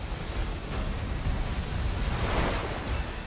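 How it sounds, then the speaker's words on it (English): Water surges and batters inside a flooded cave, a continuous loud roaring rush with no distinct breaks and no voices. "For a period of nearly 10 minutes, multiple waves batter the inside of the cavern."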